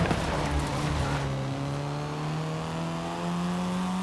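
An Abarth 124 Spider engine in Forza Horizon 5 revs and drones with a raspy exhaust note, pitch climbing steadily as it accelerates, loud and continuous with no talking.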